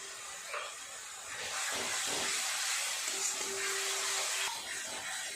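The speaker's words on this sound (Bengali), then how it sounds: "খুব ভালো করে একটু সময় নিয়ে মশলাটাকে কষিয়ে নেব তেল ছাড়া পর্যন্ত" Spice paste with cumin-coriander powder frying in oil in a pan, a broad hissing sizzle that swells and holds, with a brief steady tone partway through and no talking.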